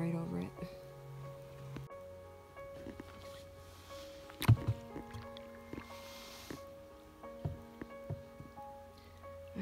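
A canoe is paddled along a lake in Temagami, giving soft intermittent water swishes and drips with occasional knocks against the hull, close and quiet, interrupted now and then by sharper thuds.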